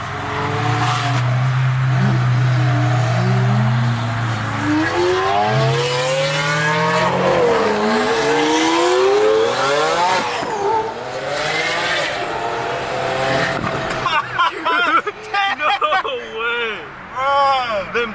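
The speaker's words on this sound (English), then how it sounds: "Them turbo spools are crazy." Twin-turbo Lamborghini Aventador SVJ at an exotic car show, engine revving hard with loud, rising and falling sweeps and turbo spool, continuous and close, with crowd chatter and talk beneath it.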